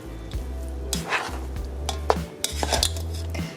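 A spoon stirs a mixture into cilantro rice in a pot with repeated rhythmic scrapes and clanks against the pot, close and fairly quiet, with no talking.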